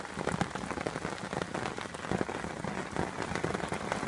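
Steady rain patters densely on an umbrella at a lakeside carp fishing spot, a close, constant drumming hiss with no break and no voices.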